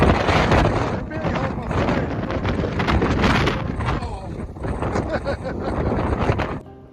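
Strong gusty wind of about 65 km/h on the New South Wales south coast at Bermagui buffets the microphone in heavy, roaring gusts that rise and fall throughout.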